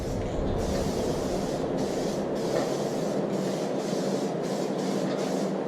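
A continuous hiss of an aerosol spray can applying a light coat of paint to a motorcycle fender edge, steady and close, running without a break for several seconds.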